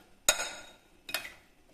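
Two sharp clinks of a utensil against a bowl while chickpea salad is mixed with pink salt, each a bright, close knock followed by a short ring, spaced about a second apart in an otherwise quiet room.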